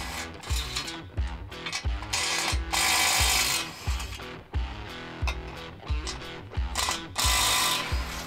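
An impact driver takes bumper bolts off a third-generation Toyota Tacoma, its rhythmic hammering in repeated close bursts with pulsing mechanical clatter throughout.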